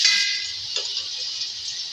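Garlic paste frying in oil in a pan, a steady thin sizzling hiss that stays fairly soft and even throughout, with a faint clink near the middle.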